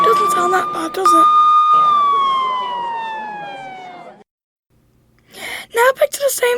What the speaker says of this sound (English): The siren sounds excruciating.